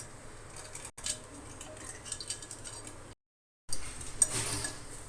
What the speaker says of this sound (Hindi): तो इसको हम अच्छी तरह मिक्स करेंगे चीनी को